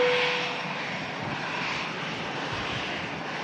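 At Manchester Airport in strong gusts, a jet airliner such as a Lufthansa A319 gives off a broad, steady engine roar. It is loudest at the start and then holds a sustained rushing drone without pause.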